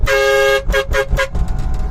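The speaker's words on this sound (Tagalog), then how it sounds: "Pero yung busina namin dump truck." A loud dump truck horn fitted on a Suzuki or Nissan mini truck blasts once in a long tone, then gives three short toots in quick succession, close and forceful.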